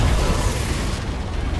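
A Confringo spell explodes during a Hogwarts Legacy duel: a dense, rumbling burst of noise that stays loud and then gradually thins out over a second and a half.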